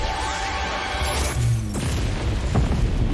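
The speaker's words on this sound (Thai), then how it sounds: "ดูระเบิดระเบ้อเนี่ยดิ" Booming explosion effects burst during the flashy intro of the Dimension Breaker Lauriel skin in the mobile game RoV, with loud, dense rumbling, crashing impacts and sweeping whooshes running continuously throughout.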